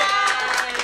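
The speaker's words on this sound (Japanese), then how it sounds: "大きな拍手を、ね、はるちゃん、改めましておめでとうございます。" An audience at an intimate concert venue applauds a performer named Haru-chan, a steady wash of clapping that continues through the moment, with a voice faintly present beneath it.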